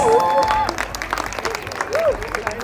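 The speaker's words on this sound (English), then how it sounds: "Please, he needs a big round of applause." Audience applause at a cultural program for Sankranti celebrations, a steady wash of clapping throughout with a voice speaking over it.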